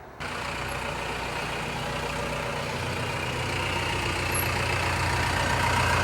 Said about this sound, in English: It goes all the way to 30 psi, and it boosts up way quicker than it did before.